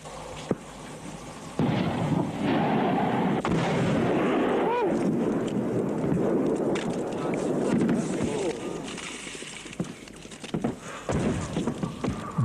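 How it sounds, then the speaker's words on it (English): Artillery fire during shelling of a Soviet garrison booms through the scene as repeated heavy thuds and sharp blasts over a continuous rumbling background, with voices talking now and then. "the enemy's artillery fire was sustained and occasionally uncomfortably accurate"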